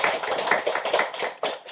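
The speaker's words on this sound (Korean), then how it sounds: "큰 박수." Audience at a lecture clapping to welcome a professor, a brief close cluster of distinct hand claps in an uneven rhythm, with no voices.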